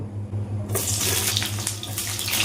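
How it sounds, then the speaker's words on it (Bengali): Pointed gourd pieces go into hot oil in a kadai for a mixed vegetable curry. After a brief quiet moment a loud, steady, broadband sizzle starts suddenly and carries on evenly with no talking. "তেলটা গরম হয়ে গেছে আগে আমি পটলগুলো ভেজে নেব"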